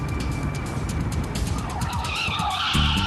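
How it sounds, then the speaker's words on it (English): A driverless car skids and spins out of control, tires screeching loudly and continuously with the engine roaring close by, and the squeal rising in pitch toward the end. "this car was reported spinning out of control with no one behind the wheel"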